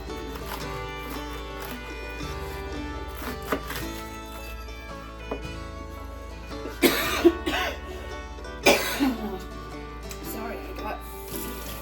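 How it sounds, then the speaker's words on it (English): Someone coughs a few times in sharp bursts, close by, amid quiet kitchen handling noises. "I have a cough today that just seems like it won't go away"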